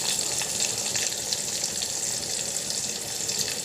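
Onion and tomato frying in hot oil with garlic while an octopus dish is cooked: a steady, close, broadband hiss and sizzle that holds evenly throughout, with no talk.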